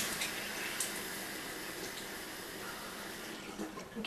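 Lukewarm water running steadily from a tap during rinsing, a continuous hiss of flow with faint splashes, close and even.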